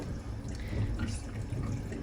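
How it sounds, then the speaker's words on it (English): Hot water is poured into a bowl to soak items, giving a soft, continuous splashing and trickling that stays fairly faint and steady throughout. "I'm just gonna put some hot water on them and let them soak while we cook our food."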